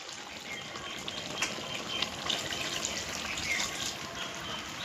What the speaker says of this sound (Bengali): এবার এর মধ্যে কিছুটা জল দেবো